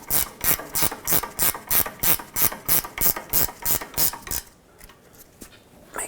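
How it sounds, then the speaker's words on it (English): A ratcheting wrench tightens a sway bar link on a 2004-2008 Acura TL, loud close clicking in about a dozen rhythmic strokes, then a short quieter pause with faint clicks. "I'm going to have to use a ratcheting wrench this time"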